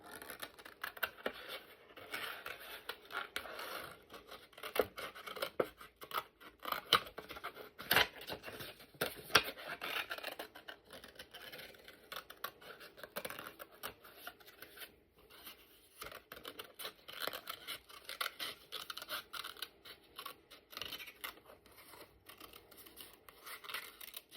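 Scissors snip steadily through a paper dress-form cutout for a junk journal tag, a near, continuous run of crisp cutting and rustling paper, quiet and unaccompanied by speech.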